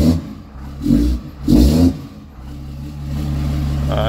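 A 2016 Ram pickup truck engine revs in short bursts, two or three throttle blips rising and falling, then settles into a steady idle rumble close by.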